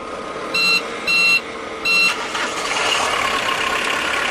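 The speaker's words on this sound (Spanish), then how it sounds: "Voy a arrancar el motor. Esperamos que pite." A vehicle engine starts after three evenly spaced electronic warning beeps, then settles into a steady close rumble.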